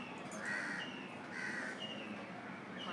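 A crow caws twice in slow succession, moderately distant, over a low outdoor background hum.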